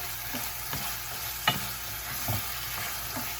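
Chopped vegetables for a homemade chunky salsa sauté in a pan over a stove on high heat, giving a constant hissing sizzle with occasional light stirring scrapes and taps close by, without any talking.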